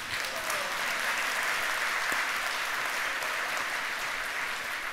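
An audience at a mayor's New Year greetings ceremony applauds his speech, an even, sustained patter of many hands clapping in a large hall, heard alone at moderate distance.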